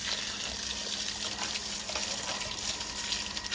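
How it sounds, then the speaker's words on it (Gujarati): A motor-driven water spray jets steadily onto a car being washed, a continuous close gushing hiss with no talk. "મોટર ચાલુ કરી અને સરસ મજાની ગાડી ધોઈ નાખી."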